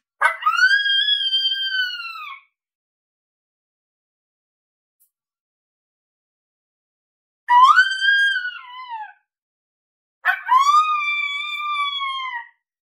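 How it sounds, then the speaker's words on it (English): Three separate coyote pup howls from the Boss Coyote Mayhem Pak call sounds, each a rising then falling wavering wail. The first and last run about two seconds and the middle one is shorter, with clear silence between them. "this is just some pup howls"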